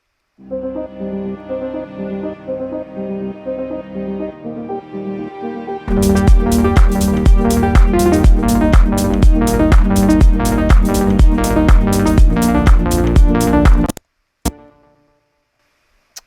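Sustained synth string chords from a standard Kontakt preset swell alone, then a fast rhythmic string pattern joins in with dense, layered chords before cutting off abruptly, for melodic techno.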